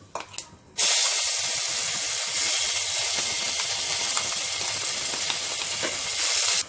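Mint paste, added after cashews have fried, hits hot oil in a pan for foxtail millet mint rice: a sudden loud, hissing sizzle that holds steady and close for several seconds after a few brief clicks, with no talking.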